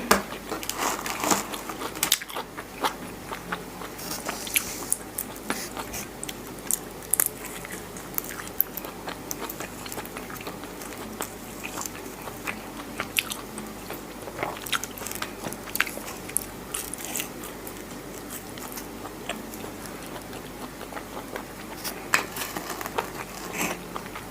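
A cheesy pizza is bitten and chewed close to the mic, with repeated soft crunches and wet chewing over a steady low background.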